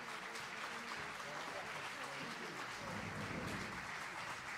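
An audience applauds at a piano and orchestra competition in Cantù, a steady wash of distant clapping from a concert hall that stays faint and even throughout.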